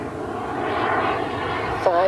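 RC jet plane flying at half throttle, a steady, loud, sustained engine whine that holds evenly, with a voice coming in briefly near the end.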